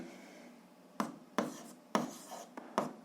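Pen strokes writing out a seventh-grade algebra solution on paper, a handful of short separate scratchy bursts coming at uneven intervals, close and quiet with no talk.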